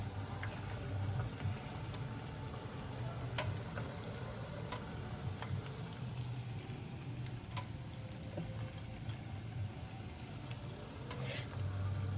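Fish accras frying in hot oil, a steady close sizzle and bubbling with scattered crackles and small ticks throughout, no one speaking.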